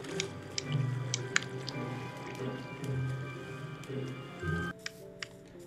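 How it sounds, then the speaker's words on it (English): Water in the Minecraft video game drips and splashes in scattered wet patters over a low steady flow, with small clicks and one abrupt shift near the end, no talk. "Let's go to the waterfall right here."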